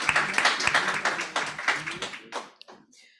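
Audience clapping at a school board candidate forum, a short burst of scattered hand claps that quickly thins out and fades within a few seconds.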